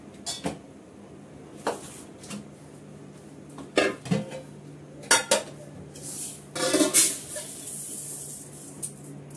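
Metal cooking pot clattering down amid a few sharp kitchen clanks of dishes and utensils while biryani is prepared, intermittent knocks over a steady low background hum.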